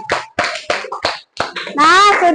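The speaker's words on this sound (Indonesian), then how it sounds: "Tepuk tangannya dulu." Classroom of children clapping together in quick rhythmic bursts, close and fairly loud, mixed with young voices chanting and calling out, ending in a brief cheer.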